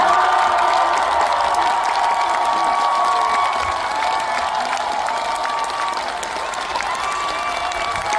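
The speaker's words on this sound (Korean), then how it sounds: "큰 박수를 보내주시기 바랍니다" A large crowd at a South Korean political campaign rally at the National Assembly applauds and cheers continuously, a dense wash of clapping with scattered shouts and whoops throughout.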